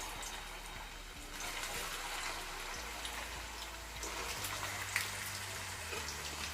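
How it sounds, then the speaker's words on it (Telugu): Cut okra pieces sizzle as they drop into hot oil, a steady broadband crackle and hiss with faint low hum beneath and a single sharper pop near the end. "ఇప్పుడు ఆయిల్ కూడా వేడైంది కదా, ఈ ఆయిల్లో కట్ చేసుకున్న ఈ బెండకాయ ముక్కలు వేసుకోవాలి"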